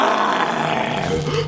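A loud, sustained roar with a rough, growling texture, continuous for the whole moment and heard close up without any talking.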